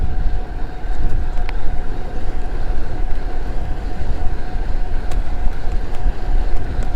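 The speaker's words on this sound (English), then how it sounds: "I'm gonna put some power in the pedals" A Fiido D11 electric bike (2021) pedaled hard in high gear at speed, giving a steady, loud rush of wind and rolling noise with a faint drivetrain hum throughout, no voices.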